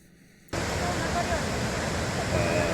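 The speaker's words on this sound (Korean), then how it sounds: "벨리키슬라프 대폭포를 멀리서 바라보면 저 위쪽에 상단에 있는 그 대폭포뿐만 아니라 그 물이 모여서 이렇게 하루 쪽으로 흘러내려가는 또 작은 폭포들이 여러 개가 진행이 되거든요" Veliki Slap waterfall in Plitvice National Park, a steady loud broadband roar of falling water that starts abruptly after a brief quiet moment and continues unbroken.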